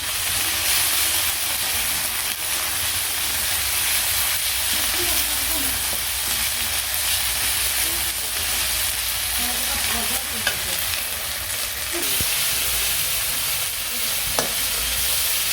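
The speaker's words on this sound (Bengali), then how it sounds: "এখন ভালো করে কষিয়ে নিই" Onion with ginger-garlic paste and spices fries in hot oil, a constant close sizzle with occasional stirring scrapes and light clinks in a village kitchen.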